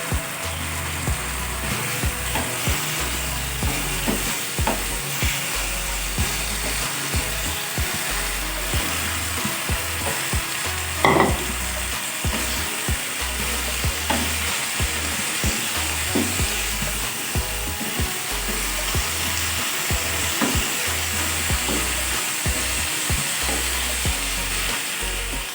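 Garlic chive flowers stir-fried in a pan, a steady loud sizzle and crackle lasting throughout, punctuated by scraping and clinking of a spatula as the greens are tossed.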